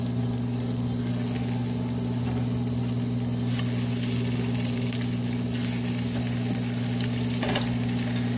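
Stuffed pork rolls filled with cornbread sausage stuffing, laid seam side down in a hot pan, sizzling and frying loudly and continuously up close, with a faint stir of movement partway through.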